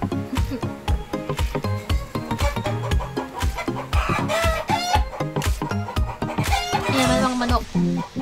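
Hens cluck repeatedly in an irregular rhythm, and a rooster crows loudly near the end, close and busy.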